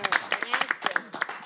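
Studio audience on a call-in family talk program giving a short burst of applause, irregular claps of moderate loudness lasting a moment.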